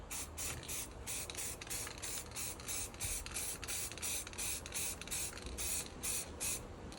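A can of Halford's gloss black aerosol paint sprays a model railway wagon in quick repeated bursts, each a sharp close hiss separated by short pauses, heard alone without speech.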